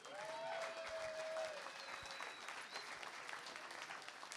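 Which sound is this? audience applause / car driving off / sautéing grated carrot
audience applause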